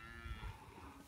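A big stout Bradford cow gives a single short, low moo, close and fairly quiet, lasting about a second with no talking.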